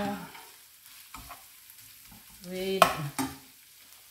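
Eggplant sautéed with garlic, onion and ground chicken in a pan gives a soft, steady sizzle. A spoon stirs and scrapes it now and then, with a louder clatter near the end and a brief word spoken over it.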